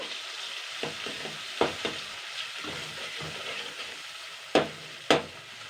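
Nut paste, melon seed paste and poppy seed paste stirred in a hot pan, giving a steady low sizzle with soft scraping strokes and a couple of sharper utensil knocks near the end, close and fairly quiet.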